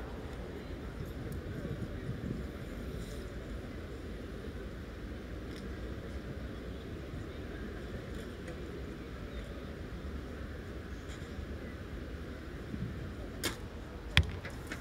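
A compound bow arrow is released at a women's team archery bronze final in Shanghai, 2017, giving a brief sharp snap near the end over a steady wash of outdoor ambient and crowd noise.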